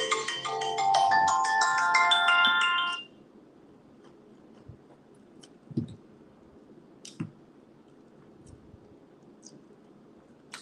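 A phone ringtone plays a loud, rapid melodic pattern of bright beeps for about three seconds, then cuts off, leaving a quiet room with a few faint clicks and soft handling noises.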